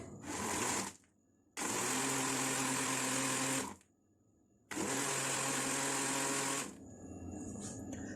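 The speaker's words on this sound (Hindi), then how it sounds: "अब इसको हम ब्लेंड कर लेते हैं।" A blender whirs through a strawberry milkshake with crushed ice in three loud, close bursts of steady motor roar separated by short pauses, the last burst winding down into a quieter hum.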